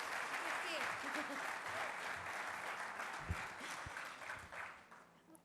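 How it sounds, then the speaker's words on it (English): Audience applause at a World Brokers Day keynote event, a broad sustained wash of clapping that holds steady and then tapers off toward the end, with a few sharper individual claps standing out. "I think it can be a louder applause."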